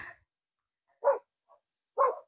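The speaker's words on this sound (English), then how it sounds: "I'm not sure if you're hearing the dogs as much as I am" Two dogs' barks ring out in a quiet garden, single short woofs spaced about a second apart with a faint yip between, moderately distant and with no talk over them.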